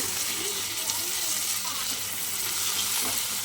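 Continuous close hiss and crackle of eggplant slices frying in oil with green chillies, salt and turmeric, a dense even sizzle that holds steady throughout.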